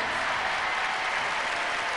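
Dense crowd applause and cheering fill an arena at the 1992 Albertville Olympics figure skating exhibition, a steady roar of clapping as Surya Bonaly takes the ice.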